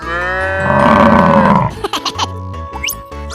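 Cartoon cow in a 3D animal sliding game lets out a long, loud, close moo, followed by bouncy game music and effect sounds.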